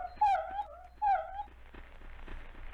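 Video game dog whimpers twice in quick succession, each a thin, rising-and-falling whine, then fades into a quiet low rumble, with no voices.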